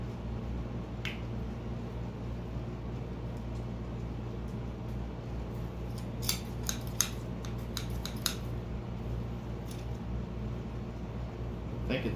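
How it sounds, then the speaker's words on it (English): Scissors being scraped clean of hot glue residue during a Wookiee mask display bust build, giving a cluster of short, crisp clicks and snips over steady low background hum. "Scissors have got junk all over them."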